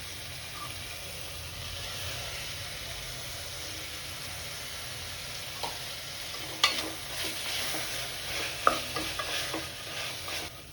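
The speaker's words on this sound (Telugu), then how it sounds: "ఆ తర్వాత పుదీనా వేసేసుకుందాం." Fresh mint leaves hit a hot pan of tomato rice in progress, giving a steady close sizzle and frying hiss with a few sharp stirring clinks of a spoon against the pan near the end.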